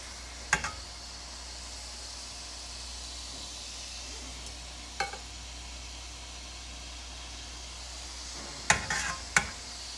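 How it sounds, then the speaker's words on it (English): Vegetables fry in oil in a pan for chicken fajitas, a soft, even sizzling hiss with a few brief clinks and scrapes of stirring now and then. "I'm gonna cook the vegetables in the same pan in the oil"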